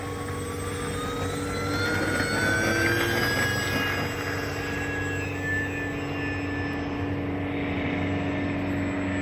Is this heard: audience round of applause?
no